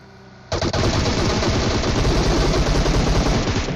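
Automatic gunfire in the mobile battle royale game PUBG Mobile, sudden loud sustained bursts of rapid shots starting after a quiet half second and continuing without pause.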